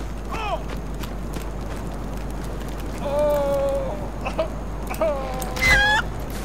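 A chicken in the video game Far Cry Primal gives several short, nasal clucks and squawks in scattered bursts over a constant low hum and ambient game noise, fairly close.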